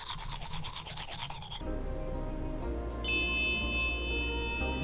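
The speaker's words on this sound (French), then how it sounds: "D'abord je me brosse les dents." Teeth brushed with a toothbrush in a hotel room in Japan, a close, steady scrubbing rasp with quick back-and-forth strokes for about a second and a half before stopping, followed by room hum and a faint electronic chime.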